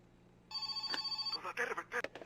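A house telephone rings in My Winter Car, a steady electronic bell trill starting abruptly and repeating in quick pulses, fairly close and clear with a few clicks near the end.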